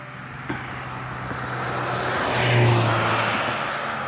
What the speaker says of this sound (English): there's a car coming by, and it's going to be too loud